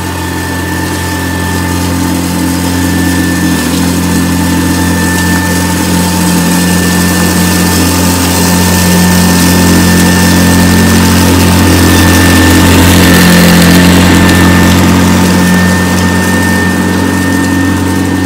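A vintage Hoover vacuum cleaner runs steadily and loudly for the whole stretch, a close, constant motor hum and whine with no pauses and no voices.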